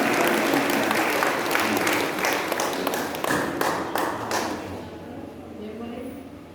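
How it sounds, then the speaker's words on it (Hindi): An audience applauds loudly in a dense burst of clapping that holds strong for several seconds, then thins and fades away toward the end. "इस प्रकृति को भी जोरदार तालियां।"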